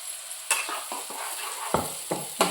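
A ground masala of coconut, yogurt, ginger, garlic, coriander and chillies fries in a pan for a spicy okra dish, with a low sizzle and a handful of distinct spoon scrapes against the pan, close and otherwise quiet.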